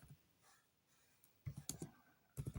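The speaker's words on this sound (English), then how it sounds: "I'm just typing it." Keyboard typing on a computer: a short burst of key clicks around the middle, then a second quick cluster of taps at the end, fairly close but quiet, with a faint hum and no talking.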